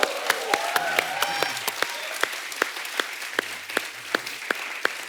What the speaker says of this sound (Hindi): सब कितनी तालियां बजा रहे हैं आपके लिए